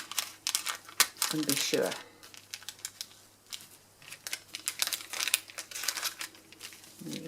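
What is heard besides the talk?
scissors cutting paper for an art piece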